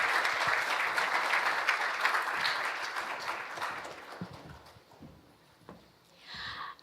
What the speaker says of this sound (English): another warm round of applause for the President of the Philippines